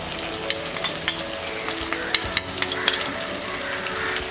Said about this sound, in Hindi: अब हम इसमें डालेंगे बाकी सारे मसाले। ये हल्दी पाउडर